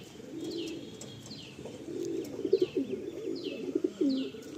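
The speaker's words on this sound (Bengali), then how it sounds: "এটা মাদি পায়রা।" A female pigeon in a loft coos in repeated low, rolling phrases close by, with faint chirps and a steady room hum behind.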